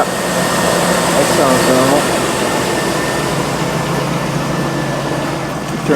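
Close, steady drone of a 2002 GMC Sierra engine idling with its belt and pulleys spinning, an even mechanical hum throughout with a short squeal-like chirp partway through.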